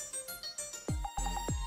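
A mobile phone ringtone plays a short electronic melody of pitched tones and beeps, fairly quiet and alone, with no talk over it.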